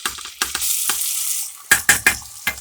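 Soaked, washed bulgur roasting in a pan with browned onions sizzles in bursts as a utensil scrapes and stirs, with several sharp clacks against the pan, close and fairly loud.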